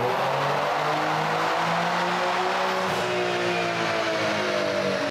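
A twin-turbo Nissan 370Z with a built engine running a dyno pull on 91 octane, a loud, sustained engine roar with smoothly rising pitch, close and alone.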